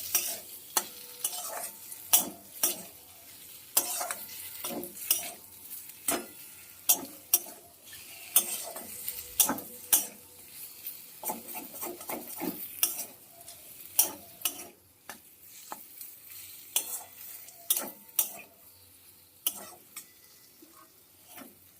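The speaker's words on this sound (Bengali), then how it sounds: "গ্রেট করে রাখা পনিরটার মধ্যে দিয়ে দেবো দিয়ে সব কিছুকে একটু কষিয়ে নেবো" Grated paneer filling for stuffed pointed gourd being stirred and sautéed in a pan, with a spatula scraping and tapping in quick, irregular clicks over a soft sizzle, close up and without talking.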